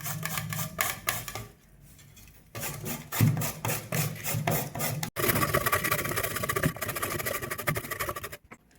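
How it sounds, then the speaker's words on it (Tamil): A block of jaggery is scraped against a hand grater in steady, rasping strokes that repeat in quick rhythm, with a couple of brief pauses between runs. "இதை வந்து நம்ம இப்போ ஒரு துருவல்ல துருவிக்கலாம்"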